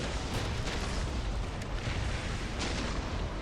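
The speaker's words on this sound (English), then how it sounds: "Another mortar barrage landing." A mortar barrage lands in a Warhammer 40k mod battle, a dense, continuous rumble of overlapping booms and blasts filling the whole stretch, loud and unbroken.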